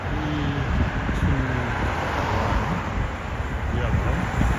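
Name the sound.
car driving through a yellow light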